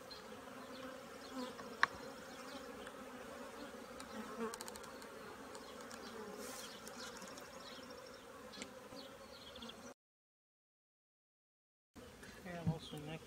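A dense, continuous drone of agitated honeybees fills the air around an early-morning hive being worked for queen cells, holding steady before a brief dropout and then resuming.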